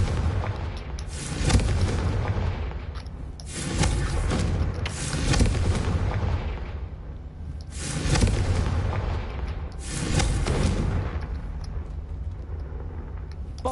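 Confringo blasting spells in Hogwarts Legacy go off as a series of about five heavy booms, spaced a couple of seconds apart, each a loud close burst followed by a rumbling tail.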